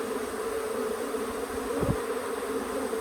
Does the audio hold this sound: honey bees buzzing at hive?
yes